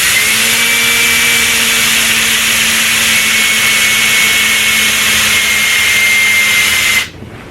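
A drill grinds steadily through wood with a dull bit, a loud, even, high-pitched whine held for about seven seconds before cutting off abruptly.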